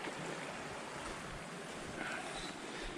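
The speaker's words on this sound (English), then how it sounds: "Gets to listen to the creek all night long." Steady broadband rush of a flowing creek beside a campsite in early spring, continuous and fairly close, with no voices or other distinct sounds standing out.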